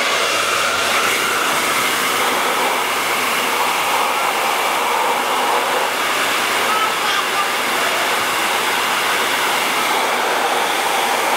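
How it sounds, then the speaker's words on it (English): A hair dryer blowing into a plastic water bottle's opening roars steadily at close range, a constant broadband whoosh with an airy, rushing quality and no pauses. "I'm gonna put the blow dryer on the opening."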